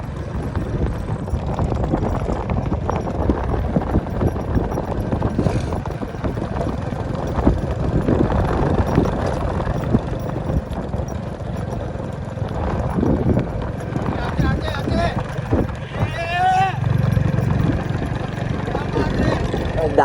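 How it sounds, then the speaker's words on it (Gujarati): A mare's hooves clip-clop steadily on the ground while she is driven along, a continuous busy clatter mixed with engine-like rumble and background noise, with voices talking over it. "હવે ઘોડી હેલી આવે કટુક કટુક કટુક કટુક કરતી"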